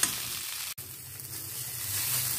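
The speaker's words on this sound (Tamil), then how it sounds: "கொஞ்சம் போய் இன்னொரு 2 நிமிஷம் பிரட்டிட்டு எடுத்துக்கலாம்." Avarakkai paruppu usili, broad beans with lentil crumble, stir-fries in a pan with a continuous soft sizzle, briefly cut by one sharp click before the hiss resumes and swells slightly.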